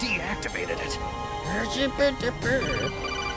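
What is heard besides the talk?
phone-like ringing in Metal Gear Solid Twin Snakes video game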